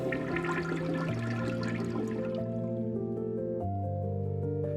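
A toilet flushes in Skyrim's Morskom Estate home, a gushing watery rush that fades into trickling and dripping, with sustained music tones underneath and no talking.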